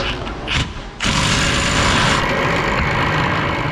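Pneumatic assault ratchet working on a Ford Expedition 5.4 3-valve 4x4 wheel bearing: a loud, harsh, sustained air-tool rattle that breaks off briefly near the start and then runs continuously, very close.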